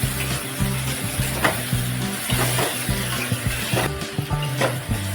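Washed mung beans and a small potato are stirred in a pan, with constant sizzling frying noise and rhythmic scraping of a utensil repeating every half second or so throughout.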